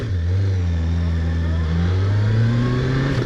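A Yamaha R1 motorcycle engine revving at an MOT testing station, a strong low hum that holds and then climbs in pitch, close and loud throughout.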